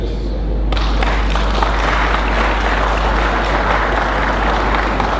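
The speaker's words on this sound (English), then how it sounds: "A big round of applause, ladies." Crowd applause fills a DNA party rally, dense and steady from start to end, with a quieter opening before the clapping swells to a loud, sustained roar.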